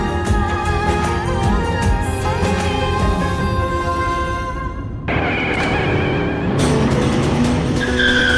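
A car with failed brakes skids hard, with loud sustained tire squeal and engine roar that cut off abruptly and then resume, loud and close throughout.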